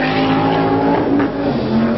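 An Audi rally car races on the asphalt section of the 1997 Rally Formula Oviedo, its engine roaring loud and steady with a shifting pitch and a brief tire squeal, and no talk over it.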